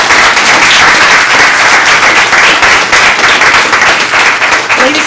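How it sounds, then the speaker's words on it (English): A dense, steady burst of audience applause for a panel at a university diversity and inclusion event, loud and sustained with no talk over it. "We want to give our panel a round of applause."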